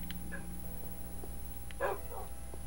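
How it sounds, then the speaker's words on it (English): Dogs in the Minecraft video game give a few short, faint barks and yips, one brief cluster standing out near the end over a steady background hum. "In the left corner, we have the first dog."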